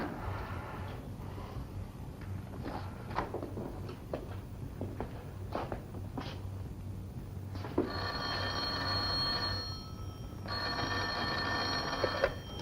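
An old telephone bell rings in two long, loud bursts near the end, after faint clicks and shuffling footsteps in a quiet room with a low hum.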